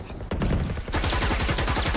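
Video game gunfire from rifles and a shotgun: a brief opening shot, then a fast, even rattle of automatic fire that keeps going loud and close to the end.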